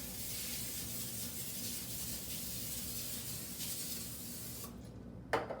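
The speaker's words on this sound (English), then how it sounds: "you want to put a nice heavy coat of cooking spray" A long, steady hiss of cooking spray released onto a parchment-lined pan, stopping abruptly near the end, followed by a faint clink.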